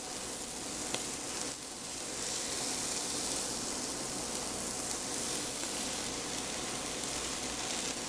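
Plant-based ground crumbles sizzling in a hot pot for curried poha, a steady loud hiss of frying with faint stirring clinks early on and no talk.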